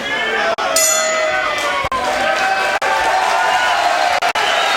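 Crowd at a heavyweight boxing match cheering and roaring as a round ends, a loud, sustained wash of voices with a few sharp clanks cutting through, a commentator talking over it.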